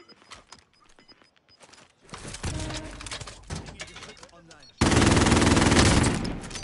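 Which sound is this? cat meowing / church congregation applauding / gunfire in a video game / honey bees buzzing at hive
gunfire in a video game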